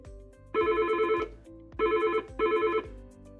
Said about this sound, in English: Some people like to change the ringtones.